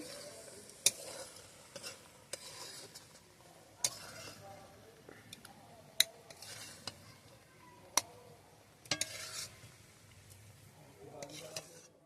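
A spoon scrapes and taps against a pan as cooked sour sorrel is scooped out, giving sharp clinks every second or two over a soft, continuous background hiss.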